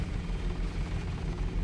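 Helicopter in the Deus Ex: Revision mod, a steady low rotor drone with a dense rumbling texture, held at even loudness throughout with no voices.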